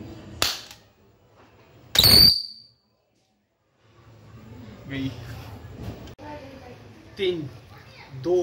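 A sparrow bomb firecracker set off for Diwali: two sharp, loud bangs, the second with a whistling burst, then quiet before people start talking nearby.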